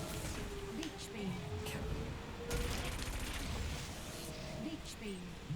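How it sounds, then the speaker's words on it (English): Continuous weapon fire from futuristic anti-gravity racing craft in Wipeout Omega Collection, with rapid bursts of cannon shots and leech beams crackling over a steady engine drone and game music, loud and busy throughout. "I feel like there's a lot of weapon use happening."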